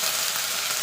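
Black cumin, asafoetida and ginger paste hit hot oil in a pan, giving a steady bright sizzle, close and fairly soft, with no talking.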